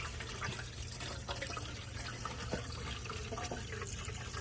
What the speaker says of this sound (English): Getting all that nice succulent water getting in there.